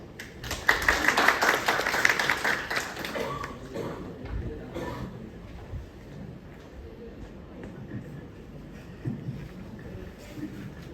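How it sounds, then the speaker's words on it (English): An audience at a medical case discussion applauds loudly for the first few seconds, then the clapping thins out into scattered claps and room murmur. "Please give her applause."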